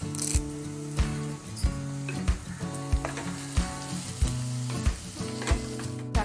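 Shallots, green chillies and curry leaves sizzle hard in hot oil for an egg kuzhambu, a continuous crackling fry broken by regular sharp clinks of a spoon stirring the pan, close and fairly loud with no talking.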